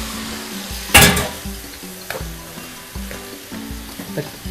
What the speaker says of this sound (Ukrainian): Тож наші спагетті альденти ми закидаємо до морепродуктів і перемішуємо.